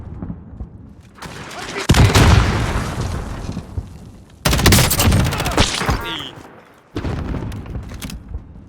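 RPG blasts and gunfire in the video game Call of Duty Warzone: heavy booming explosions and rattling shots in loud bursts separated by short gaps, the first blast near two seconds, another around four and a half seconds, and another around seven seconds.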